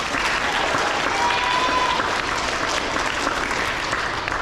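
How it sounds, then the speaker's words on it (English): Elementary school awards audience applauds fourth grade engineer award winners, a steady, dense wash of clapping from a crowd that holds loud and even throughout. "Let's give our 4th grade engineer award winners a round of applause."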